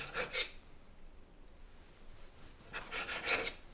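A knife cuts through half-frozen chicken, making thin strips with short rasping scrapes in two bursts, one at the start and one near the end, and a quiet pause between them.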